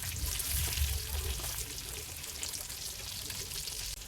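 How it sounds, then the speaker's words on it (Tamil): Sardine fillets frying in a pan with oil, a steady close sizzle and crackle that runs throughout without a break. "இந்த சைடில் ஒரு 2 நிமிஷம் அப்படியே பொரிப்போம்."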